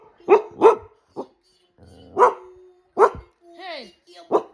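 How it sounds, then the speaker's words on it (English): Maple the dog barks in several sharp, close bursts, two quick ones then more spaced out, while a voice talks to her between barks. "What are you barking for?"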